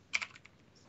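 A short burst of keystrokes on a computer keyboard entering a device name, a quick cluster of close, quiet clicks at the start that thin out to a couple of lighter taps.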